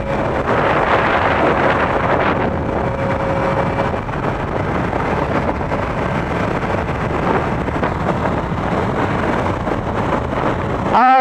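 A Yamaha FJ-09 motorcycle rides along a road, heard as a continuous loud rush of wind buffeting the microphone, with engine and road noise buried underneath throughout.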